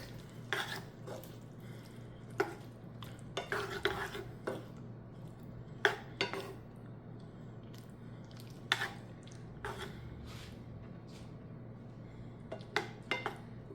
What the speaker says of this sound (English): Now it's a good time to mix it